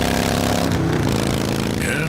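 Motorcycle engine droning and revving through a radio commercial, a steady buzzing roar with changing pitch over about two seconds, mixed under faint broadcast sound.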